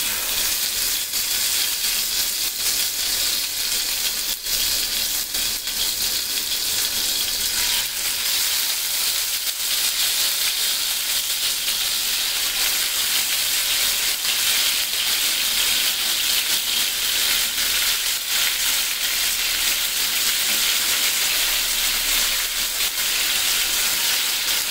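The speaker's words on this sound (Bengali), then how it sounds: "এখন তেলটা গরম হলে আমি চিকেনগুলি এক এক করে দিয়ে দিব।" Chicken pieces frying in hot oil give a dense, steady sizzle and crackle close by, continuous and uninterrupted, with no talking.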